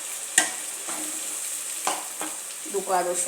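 Onions frying and being stirred in oil, a steady sizzle broken by a few spoon scrapes, with a voice briefly speaking over it near the start.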